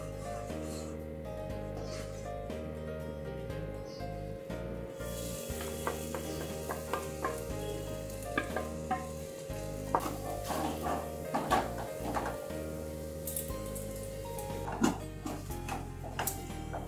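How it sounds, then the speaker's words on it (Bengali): Mung dal stirred and fried in ghee for a homemade mung naru, giving a continuous sizzle broken by scraping strokes of the spoon, over a steady tonal hum that runs throughout. "ঘিয়ের মধ্যে আমি ডালটা একটু নেড়ে নিচ্ছি।"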